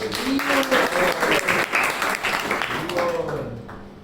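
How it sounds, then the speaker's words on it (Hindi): A youth forum audience claps together in a sustained burst of applause, with voices calling out over it before the clapping thins toward the end. "ताली बजाओ।"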